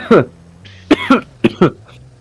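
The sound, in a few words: cough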